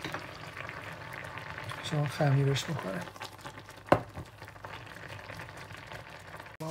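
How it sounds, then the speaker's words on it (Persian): Rice boiling in a pot while making tah chin, a steady bubbling simmer running throughout under a woman's speech, with a brief clink partway through. "برنج اونم ببینیم که به این شکل در اومده، الان جوش اومد"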